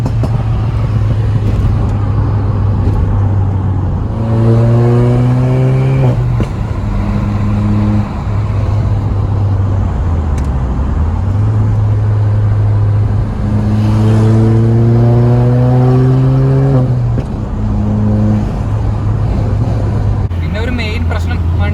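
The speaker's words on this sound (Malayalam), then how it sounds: "ഒറ്റയടിക്ക് കാല് കൊടുത്തു കഴിഞ്ഞ് കഴിഞ്ഞാൽ നമ്മളെയും എടുത്തുകൊണ്ട് വണ്ടി അങ്ങ് പോകും" A Stage 2 remapped Skoda Laura 1.8 TSI tuned to 220 bhp, fitted with pops and bangs, idles with a low drone, then pulls hard twice with loud rising revs and gear changes, settling back between runs.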